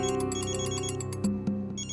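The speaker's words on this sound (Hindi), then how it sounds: "क्या बात है मिस्टर विवान, ऐसा कौन सा जरूरी फोन कॉल है जो आप थोड़ा रुक नहीं सकते?" A phone ringtone rings in a steady, repeating electronic melody, loud and close, with no talking over it.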